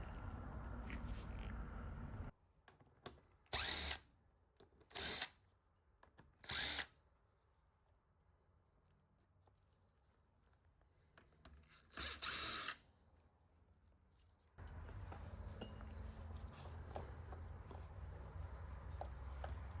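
A 1/4-inch power driver backs screws out of a GE dishwasher door in several short whirring bursts separated by quiet pauses, close by, with steady background noise before and after.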